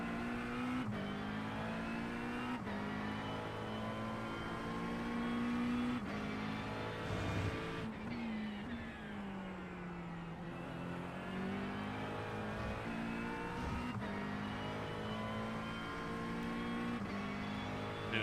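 A McLaren 720S GT3 race car in a racing game at Interlagos, its engine droning steadily close up, pitch climbing through gears with brief dips at shifts and a deeper lift-off around the middle.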